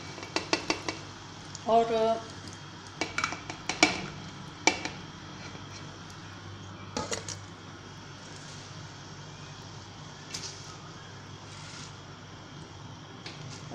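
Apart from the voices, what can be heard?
mixing ingredients for sarson ka saag in a pot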